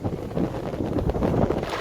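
Wind gusts across an open farm field recently worked with a rotavator, raising dust, roar steadily against the microphone as a loud, continuous low rumble with no voices.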